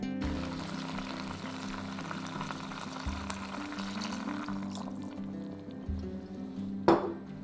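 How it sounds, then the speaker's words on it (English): About two cups of red wine poured into a hot pan of beef for a Scottish beef stew, giving a steady close sizzle and liquid splashing with faint clinks, no talking. "And then we'll add 500ml, which is about 2 cups and a tablespoon of red wine."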